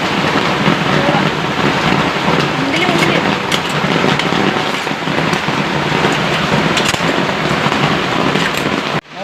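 A heavy downpour roars loud and unbroken for about nine seconds, a dense wash of rain on surfaces that cuts off abruptly at the end.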